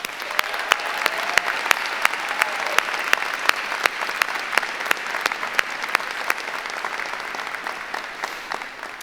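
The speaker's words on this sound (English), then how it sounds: "Can we give him another round of applause" Sustained audience applause at a college commencement and graduate hooding ceremony, a dense, steady wash of clapping with sharp individual claps popping out, lasting throughout without pause.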